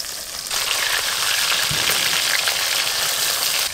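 Bata fish fry in hot oil, giving a steady, dense sizzle that starts after a brief quiet moment and then holds level, close and fairly loud, with no voices.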